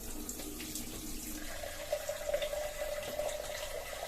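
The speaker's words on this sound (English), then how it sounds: "So let us add some cold water here." Cold water runs from a kitchen tap while chapati dough is being mixed, a faint, steady trickling stream that continues unbroken with no voices.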